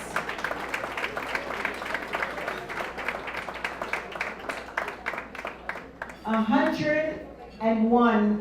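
A crowd at a women's excellence awards ceremony claps steadily for Miss Lena Bly and her family as they come up to receive an award. The applause holds for about six seconds before a voice takes over.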